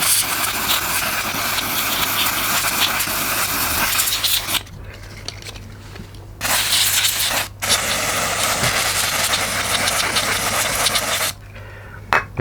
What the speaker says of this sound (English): I've just basically doused it in contact cleaner